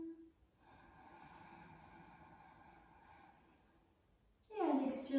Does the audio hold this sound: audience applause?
no